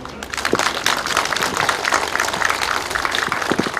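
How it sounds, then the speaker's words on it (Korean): At the opening ceremony of a farm-cooperative machinery rental office, a crowd claps its thanks to the mayor and council member with brisk, fairly close clapping that continues steadily throughout. "여기 시장님하고 의원님한테 감사하다고 박수 한번 주세요"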